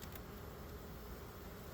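Honey bees hum as a steady, even buzz while they draw new wax on frames during a hive inspection, heard close and fairly quiet, with no talking over it.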